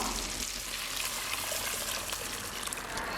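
Tamarind and chili powder mixture poured into a pan of frying onions for Tamil fish kulambu, giving a steady bright sizzle and hiss with a watery splashing, close and moderately loud throughout.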